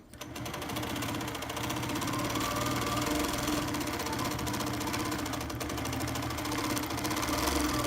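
An Innova longarm quilting machine stitches across a fabric panel, giving a steady, close, continuous mechanical hum with a fast stitching rhythm that runs the whole time with no talking.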